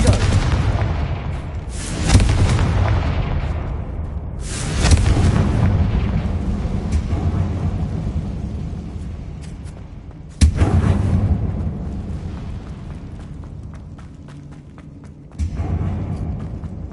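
Confringo spell explosions in the video game Hogwarts Legacy, several heavy booming blasts spaced a few seconds apart, each with a sharp onset and a long rumbling decay, loud and close.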